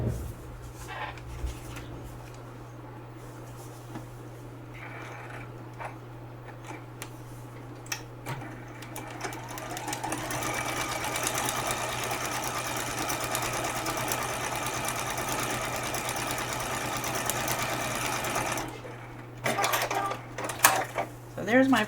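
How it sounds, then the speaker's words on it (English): Sewing machine stitching paper-pieced quilt pieces, with short whirring bursts early on, then a long continuous run of rapid stitching, with a person talking at times. "So I'm going to bring this over one time and sew both of these on there."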